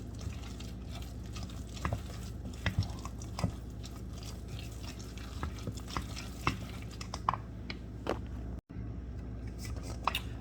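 A spoon stirs grated cheese into a chopped tomato filling for stuffed tomatoes, making soft, irregular wet scrapes and light taps over a steady kitchen background with no talking.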